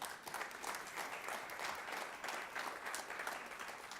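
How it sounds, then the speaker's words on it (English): Sustained audience applause at a college president's reception, a steady dense wash of many hands clapping at moderate distance, with no speech over it. "And Jim Hayden is there clapping."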